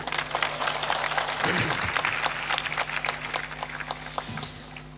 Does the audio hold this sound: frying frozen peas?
no